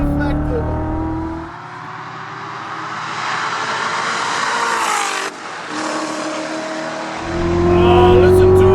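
A tuned 2016 Corvette Z06 V8 screams up through the revs on a race track, dropping briefly on a gearshift and climbing again, loud and close from inside the car.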